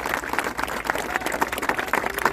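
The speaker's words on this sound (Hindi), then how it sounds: "तालियां बजते रहना चाहिए क्या?" Crowd applause at a government workshop on a sickle cell anaemia eradication mission, dense continuous clapping filling the room at steady moderate loudness.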